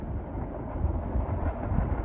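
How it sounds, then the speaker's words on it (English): A Staten Island Railway Tottenville local train approaching Clifton station at dusk, a steady low rumble and rolling rail noise holding at moderate loudness throughout, with no talk. "Tottenville local is approaching the Clifton station."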